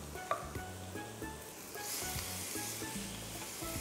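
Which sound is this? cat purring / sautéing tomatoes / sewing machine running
sautéing tomatoes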